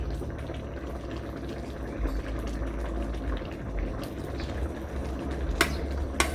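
Sour curry with large shrimp and radish simmering in a pot, a steady close bubbling boil with small pops and crackles throughout, no voices present.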